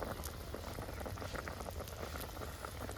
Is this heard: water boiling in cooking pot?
yes